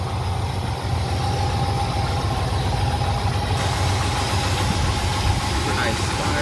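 Engine of an old Chevrolet 3100 Big Window farm pickup with a Turbo 350 transmission, fresh plugs, cap, wires and rotor, idling in a steady low rumble close by, with someone talking over it.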